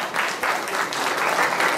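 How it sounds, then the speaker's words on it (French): An audience at an inventions fair awards ceremony in Abidjan claps steadily, a dense patter of many hands applauding without pause for a couple of seconds. "On applaudit plus fort que ça."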